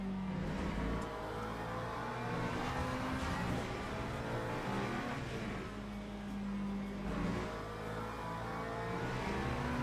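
A Porsche GT3 race car in a racing game at Laguna Seca holds a loud, steady engine roar with slight rises and dips in pitch, and the sound stays continuous throughout.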